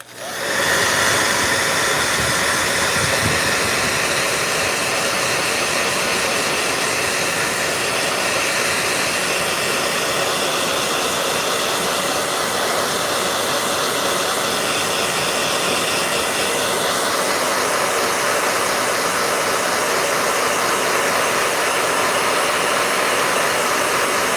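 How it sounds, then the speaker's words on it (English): A steady, loud rushing whoosh of a hair dryer blowing continuously, close by, with a slight shift in pitch partway through. "Blow dryer."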